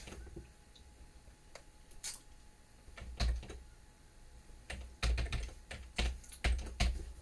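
Computer keyboard typing, a few scattered keystrokes early, then bursts of quick clicking in uneven clusters, close and fairly loud with no talking.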